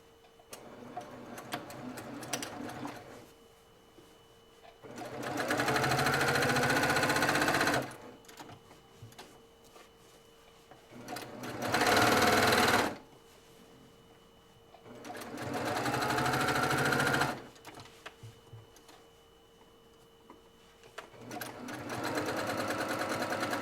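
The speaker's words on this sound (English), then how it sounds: "now I'm going to sew it." A sewing machine stitches a table topper in four separate runs of rapid, even mechanical whirring, close by, separated by quiet gaps with faint handling noises.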